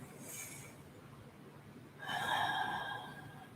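Deep breathing in a yoga child's pose, a soft inhale followed after a pause by a longer, louder exhale, close and quiet with no speech.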